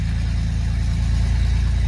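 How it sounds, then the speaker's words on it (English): A truck engine idles steadily on a dynamometer, a loud, even low rumble that holds without break and with no voices. "We'll start the truck"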